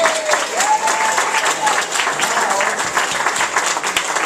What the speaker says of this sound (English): What about a nice round of applause for the double energy twins?